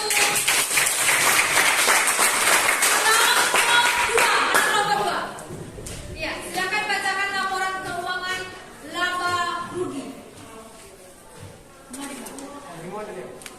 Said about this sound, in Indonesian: Tepuk tangan dulu kelompok 1.